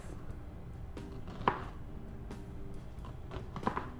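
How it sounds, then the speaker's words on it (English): A knife slices ingredients into long strips on a board while chicken feta pasta is prepared, giving a few sharp, distinct chops and taps spaced out over a quiet kitchen background. "I'm going to cut nice long strips"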